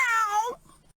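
A human voice imitates a cat's meow, one drawn-out, tonal call that starts loud and trails off into a quieter tail, heard alone.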